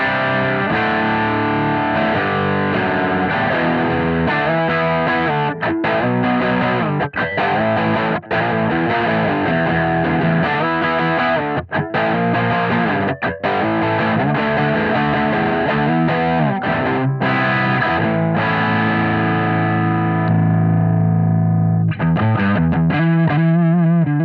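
Electric guitar driven through a Strymon Riverside overdrive pedal with the gain set just above 12 o'clock, playing loud, continuous distorted chords and riffs with rich sustain for the whole stretch, ending on a ringing held chord.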